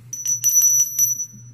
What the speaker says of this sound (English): I got a bell